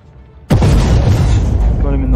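A tank cannon fires in a World of Tanks-style game, one sudden loud boom followed by a long, heavy rumble that stays strong to the end, with no talk over it.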